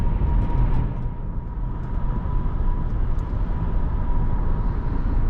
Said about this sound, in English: Like, that V8 sounds amazing.